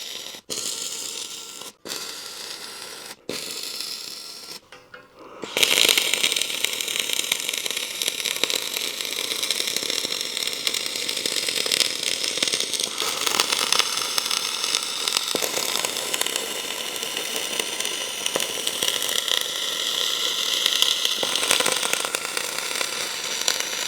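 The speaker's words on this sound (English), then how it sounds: "So I'll go ahead and weld these parts here" Welding on steel parts of a band saw roller conveyor in a shop starts after a few sharp clicks, then runs as a loud, steady crackling hiss for nearly twenty seconds with slight shifts in intensity.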